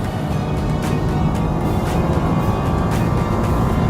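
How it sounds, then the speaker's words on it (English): A Nissan Juke R on a race track shifts up and brakes hard down through the gears, its engine and road noise roaring steadily and loudly, with rhythmic surges as the revs change. "up to 5th, hard braking, it's 3rd, 2nd, all the way down through the gears"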